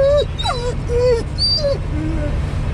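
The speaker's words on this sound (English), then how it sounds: "There's a dog over there." A dog at a truck stop fuel area whimpers and yips repeatedly in high, sliding whines, close and clear over a low steady engine rumble.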